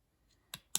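Two quick, crisp snips of scissors cutting paper for a craft, the second louder, close and alone in a quiet room.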